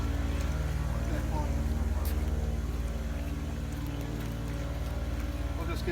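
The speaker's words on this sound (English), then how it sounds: "you can hear I leave the compressor running just to ensure all the water's out of line" An air compressor runs to blow water out of in-ground pool lines while the pool is closed, giving a loud, steady mechanical drone that holds without a break.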